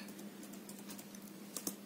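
A computer keyboard typed on in a classroom lesson, with a few faint key clicks over a steady background hum and two slightly sharper taps near the end.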